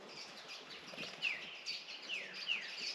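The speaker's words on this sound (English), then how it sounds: "There you go, little bird in the tree, a couple of them." Several small birds in a tree at a bush campsite in Australia's Northern Territory give bright, repeated chirps and short downward tweets, clear and fairly close, with no voices.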